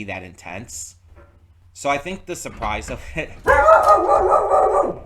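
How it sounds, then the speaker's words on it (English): A dog barks loudly in the room in short sharp bursts near the end, cutting over a person talking to camera. "sorry about the dog"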